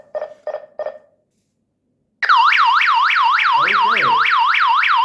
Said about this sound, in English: or you can mute the alarm